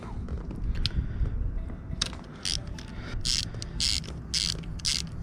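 Ratchet wrench clicking in short bursts while undoing fairing bolts on a KTM 1290 Super Duke R motorcycle, several close, crisp ratcheting runs over a low background hum.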